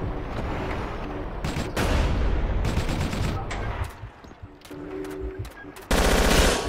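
Tank-mounted machine gun fire in the Battlefield Yugoslavia game: rapid automatic bursts, loud and close, with short pauses between volleys and a sharp final burst, mixed with battlefield noise and no talk.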